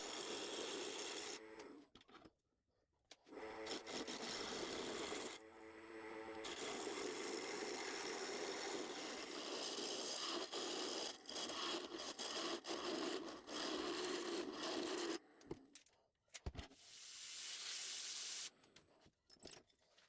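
A hand saw cuts through a wooden 2x4 board in steady, rasping back-and-forth strokes, broken by a few short pauses between bursts of sawing.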